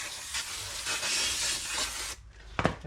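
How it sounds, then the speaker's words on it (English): Brake cleaner sprays from an aerosol can onto rebuilt car parts during welding work on a Mitsubishi Pajero, giving a steady close hiss for about two seconds followed by a short sharp burst. "hit with some brake cleaner as well over here."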